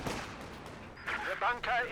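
A sniper round fires in Company of Heroes 2 amid battle noise, with an excited voice talking over the action.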